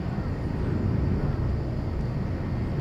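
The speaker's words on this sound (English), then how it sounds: "that was a Korean Air cargo flight" A Korean Air cargo plane at Incheon airport gives off a steady, loud, broadband jet roar that holds evenly throughout, with no voices.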